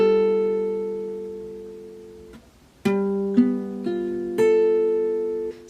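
A guitar chord is strummed across the inner strings only, leaving out the lowest and highest strings, and rings out slowly before two more strums. Each sounds clear, close and alone.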